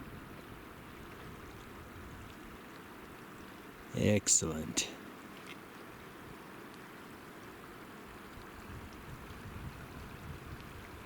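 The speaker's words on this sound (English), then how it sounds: "It's keeping the creeks flowing nicely." Mountain creek at the headwaters of the South Fork Merced River, fed by lingering snowmelt, running as a steady broadband wash throughout, briefly overlaid by a short spoken word and nearby movement.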